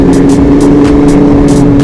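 A Kawasaki Ninja H2 motorcycle engine runs loud and close with a steady, deep droning tone and a rough, throbbing roar, held at high volume throughout with no pause.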